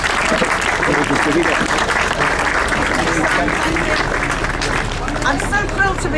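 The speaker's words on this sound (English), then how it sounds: "So if you can have a round of applause, Lady Anne." A crowd gathered outdoors for a mural unveiling in memory of Sir Ken Dodd gives a dense, continuous round of applause, loud and steady throughout, with crowd murmur and scattered voices mixed in.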